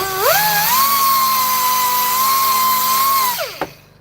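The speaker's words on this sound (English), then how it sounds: "So the sandpaper grit is 1500." A power tool sands with very fine 1500-grit sandpaper on a Honeywell Turbovisor being refurbished. It spins up to a steady high whine, holds for about three seconds, then winds down, ending with a short knock.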